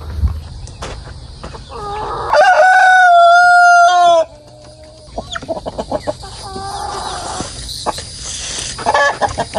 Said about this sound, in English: Here's the other one two roosters fighting.